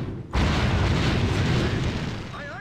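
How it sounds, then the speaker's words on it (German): Cannon fire hits a wall in Anno 1602, a sudden heavy boom that stays as a loud, dense rumble and crumble for over two seconds, with a faint whistle near the end. "wir schießen wieder auf die Mauer"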